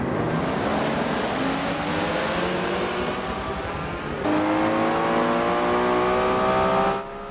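Nissan GTR R31 in the Forza racing game launching off the start in Class D, engine revving hard and climbing through gears with rising harmonic whine, a brief dip at a shift, loud and continuous.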